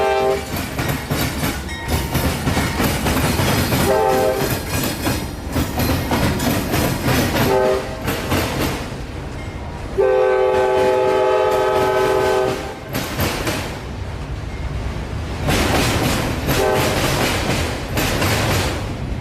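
A CSX autorack train passes close by in Florida: loud steady rumble and wheel clatter, with repeated long blasts of the train horn sounding in several bursts across the pass.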